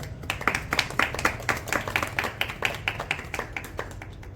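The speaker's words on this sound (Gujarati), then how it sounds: "તો તમે બધા ખૂબ તાળી પાડીને એમને વધાવ્યા." A seated crowd at a satsang gathering in Nikol claps to welcome a newly arrived monk, producing steady, dense applause of many hands that holds for several seconds before thinning slightly.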